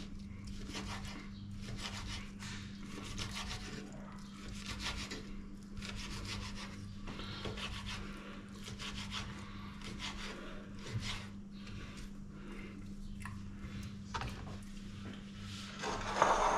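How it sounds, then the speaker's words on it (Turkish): A knife finely chopping sun-dried tomatoes on a board gives quick, evenly spaced scraping cuts in a steady rhythm over a faint constant hum, close and fairly soft. "Kurutulmuş domateslerimizi ince ince kıyıyoruz dostlar."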